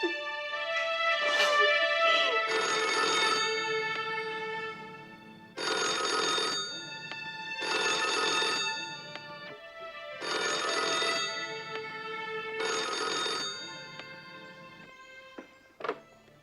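A telephone rings in repeated bursts, about six rings in a steady rhythm with short pauses between them, clear and close in an otherwise quiet room, ending with a faint thump.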